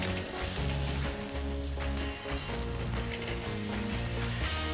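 A 48oz porterhouse T-bone steak sizzles on a grill over indirect heat, a steady crackling hiss alongside a low humming drone, fairly close and with no talk.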